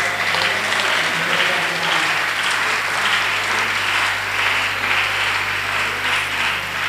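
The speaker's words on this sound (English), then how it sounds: "If you want to clap, do it now." A congregation at a church convention claps loudly and continuously, a dense even roar of many hands that never lets up, with no talking over it.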